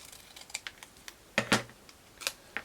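Paper being cut for a scrapbook: faint, sparse clicks and snips, with a louder pair of crisp cuts in the middle and another near the end, close and quiet.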